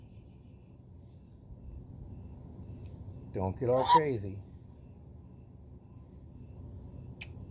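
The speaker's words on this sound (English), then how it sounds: "You hear the crickets?" Faint, steady cricket chirping hums in the background throughout, briefly interrupted by a short spoken phrase up close.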